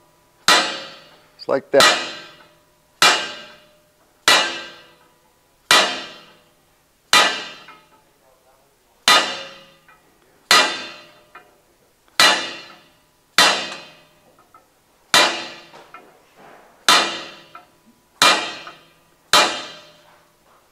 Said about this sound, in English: I take my center punch, let's go around here